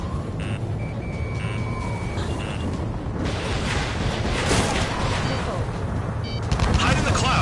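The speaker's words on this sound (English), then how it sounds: "Here comes the anti-air missile." An anti-air missile in the Ace Combat 7 game roars past as a dense, loud rushing blast, steady throughout and swelling near the end, with faint warning tones beeping underneath.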